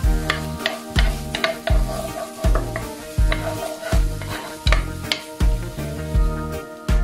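Ginger and garlic sautéing in a small amount of oil in a pan, a steady sizzle broken by repeated rhythmic stirring scrapes, close and fairly loud with no talking.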